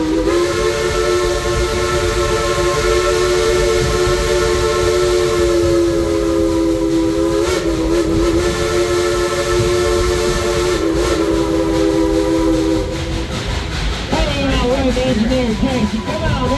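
Steam locomotive Engine 192 chugs steadily through a mountain setting in East Tennessee, its whistle sounding a long sustained multi-tone blast that fades near the end, with people talking faintly underneath.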